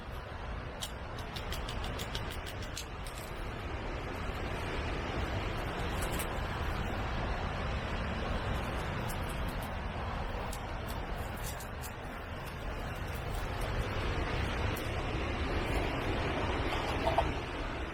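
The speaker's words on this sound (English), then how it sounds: "That wind is really picking up." Strong wind blowing outdoors at a chilly campsite, a steady, unbroken roar buffeting the microphone for the full stretch, with faint ticking and rustling on top and no speech.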